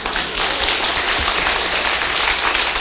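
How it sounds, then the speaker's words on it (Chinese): Audience applause at an assembly, a dense steady wash of many hands clapping, close and sustained throughout with no speech over it. "这你要拍手，对不对？"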